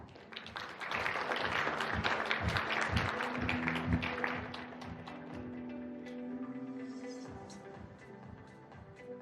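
Audience applause welcoming the Volvo Car Korea CEO onto the stage at an indoor EX30 launch event, a dense burst of clapping for about four seconds that thins out, with music continuing underneath.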